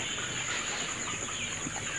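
Colored-butt chicks on a poultry farm make soft continuous clucks and chirps under a steady broadband hiss, with no talk and no distinct individual calls standing out.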